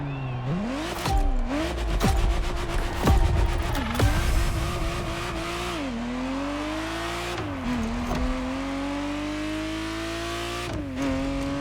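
Ferrari Testarossa engine in The Crew Motorfest racing game, revving hard through several upshifts with pitch climbing then dropping at each change, loud and continuous, with brief tire noise between gears.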